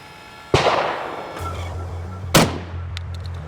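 Two loud gunshots from a large-caliber firearm such as a 7.62x39 rifle or Tavor TS12 shotgun on a shooting range, sharp blasts about two seconds apart with ringing decay and a low hum between.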